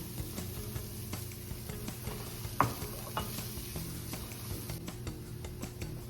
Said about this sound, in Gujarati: હવે આપણે સ્વીટ પોટેટો નાખીએ છીએ આમાં.